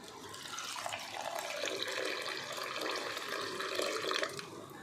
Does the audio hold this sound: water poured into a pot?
yes